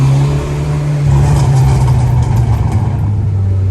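A Volkswagen GTI engine revs hard in first gear, a loud, close, sustained roar that holds steady before the pitch drops as the throttle eases off near the end.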